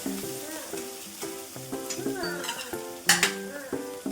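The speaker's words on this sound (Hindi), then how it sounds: "प्याज को अच्छे से ब्राउन होने देते हैं," Chopped onions fry in a pan in a home kitchen, with faint sizzling beneath repeated spoon stirs and clinks; a brief louder scrape sounds near the end, and music-like tones run underneath.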